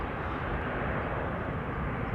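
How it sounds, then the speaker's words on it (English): A four-year-old KLM Boeing 737-800 bound for Glasgow at Amsterdam airport gives a steady, broad jet engine roar, constant and fairly close, with no talk over it. "It is a 737-800 and it's going to Glasgow in Scotland"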